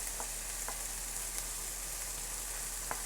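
Garlic and jalapeño sizzle in a hot pan for shakshuka, giving a steady, fairly faint frying hiss with a few soft ticks and pops and no talking.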